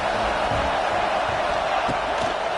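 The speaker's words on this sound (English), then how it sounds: "This crowd bringing the energy and noise early." A football stadium crowd gives off a steady, loud roar of broad, dense noise that fills the whole stretch without letting up, with no distinct voices standing out.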